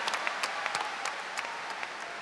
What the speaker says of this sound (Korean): 못다 하신 박수를 이번에 다 한 번에 좀 보내드리시죠